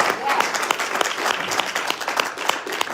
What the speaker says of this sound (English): Give these two brothers a round of applause